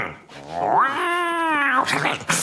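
A cartoon cat gives a drawn-out, wavering meow, loud and close, with faint shuffling sounds before and after it.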